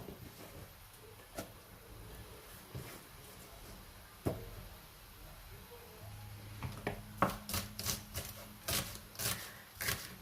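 A knife chops green onions for a lettuce salad. A few sparse, crisp taps are followed by a quicker, irregular run of close cuts on a board, all fairly quiet.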